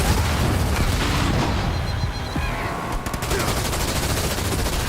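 Rapid gunfire from ground troops in the Halo Wars 2 real-time strategy game, loud dense bursts of shots with booms layered over a steady battle din, continuing for the whole stretch.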